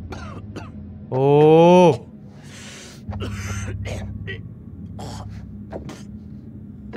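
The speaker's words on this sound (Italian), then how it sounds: "Che brutta tosse." A bad cough from a character in a game, a few harsh coughs and throat-clearing bursts alongside a brief vocal exclamation and some other game sounds.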